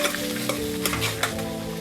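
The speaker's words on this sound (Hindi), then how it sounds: "अब दाल को भी थोड़ा फ्राई कर लीजिए, मिला लीजिए" Chana dal and soaked rice fry in a pan while being stirred, a continuous loud sizzle with scraping stirring strokes at a steady pace, close up and with no talking.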